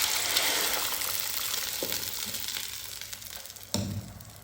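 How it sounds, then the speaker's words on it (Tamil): Coconut chutney poured into a hot curry-leaf tempering, producing a fading sizzle and bubbling hiss with a few soft knocks and one sharper splash near the end, close and moderately loud with no talk. "சட்னி ஊற்றிடுவோம்."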